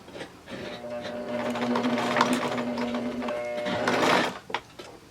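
A sewing machine runs in a steady, close-up whir while stitching a Y seam on fabric, stopping briefly near the end before a short final burst; a voice talks softly over parts of it.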